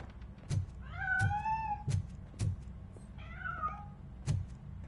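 A cat meows twice in the video game RoboCop: Rogue City, with drawn-out, wavering calls over a steady low background hum and several dull knocks or thuds at a regular pace, with no talking.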